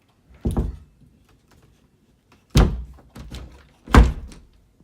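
A painted closet door being shut, giving three solid thunks at spaced intervals with a lighter knock between the last two, close and distinct with quiet in between.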